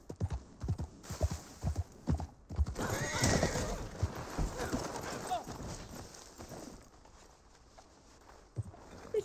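Hooves clop steadily while a horse neighs and whinnies in Red Dead Online, loud and close, with background voices and game noise around the hoofbeats.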